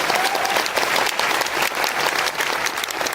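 An audience at a motivational success seminar breaks into loud, dense clapping that carries on steadily for the whole moment.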